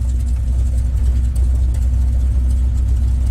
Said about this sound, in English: I've got the throttle at idle.